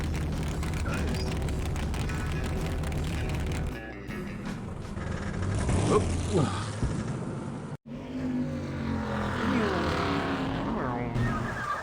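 Cars drive past in the Grim Fandango game, engines roaring loud and steady with tyre skids and squeals, over a game soundtrack and voices talking throughout.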